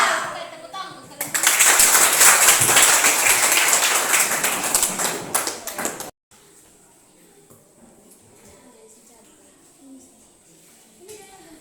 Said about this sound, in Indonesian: Oke, tepuk tangan untuk kalian.